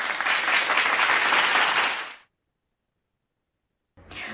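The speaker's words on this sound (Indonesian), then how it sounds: "berikan tepuk tangan yang luar biasa untuk kalian semuanya" Loud, dense applause from a crowd lasting about two seconds, then it cuts off into silence before clapping briefly resumes at the end.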